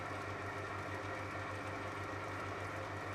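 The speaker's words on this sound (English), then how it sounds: "machine it away like this using a standard tool towards the chuck rather than across it" Lathe taking gentle cuts on a very small part for a Stuart 10H steam engine build, machining toward the chuck with a standard tool; a steady, low continuous motor hum with faint mechanical hiss, even and unbroken throughout.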